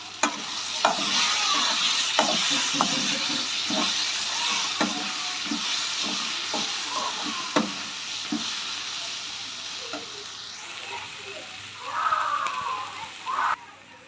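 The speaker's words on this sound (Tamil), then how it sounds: "எல்லாத்தையும் ஒன்றா இப்போ மிக்ஸ் பண்ணிக்கலாம்" Capsicum egg poriyal frying with spices in a pan, stirred with a spoon. The oil sizzles and hisses steadily, with repeated sharp scrapes and clinks of the stirring, up close and alone.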